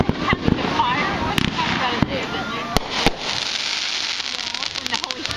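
A fireworks show in Ozark, Missouri, with repeated sharp bangs and crackling bursts at irregular intervals, some landing close, mixed with crowd chatter and exclamations throughout.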